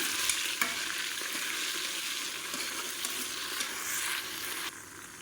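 Chopped onions frying in fat in a pan for mutton biryani, with a steady close sizzle and occasional scraping stirs of a spoon throughout, no voices.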